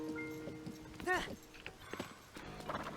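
Horse hooves clip-clopping in the video game Zelda: Tears of the Kingdom, a soft uneven run of hoofbeats with a brief whinny-like tone, quiet and mixed with game background sounds.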